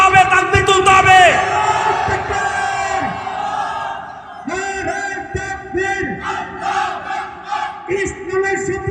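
A large crowd at an Islamic sermon gathering shouts the chant Nara-e-Takbir, Allahu Akbar in loud, rising bellows, with a leader's call and massed responses swelling and falling in repeated waves.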